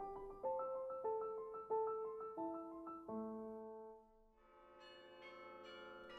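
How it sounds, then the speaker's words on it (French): Carillon bells in the Peace Tower, a 53-bell instrument, ringing a slow melody of struck notes with lingering resonance, moderately quiet, later blending into a brighter cluster of overlapping tones. "La tour abrite un carillon comprenant 53 cloches."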